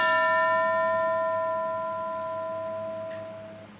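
A single bell strikes once and its clear metallic tone rings on, slowly fading over a few seconds with no voices.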